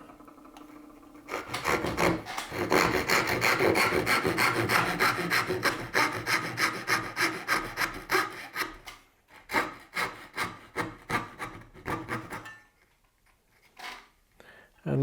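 A hand saw cuts a dovetail joint in wood, its rapid rasping strokes loud and close, growing slower and more separated as the cut deepens before stopping.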